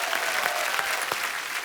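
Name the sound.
audience applause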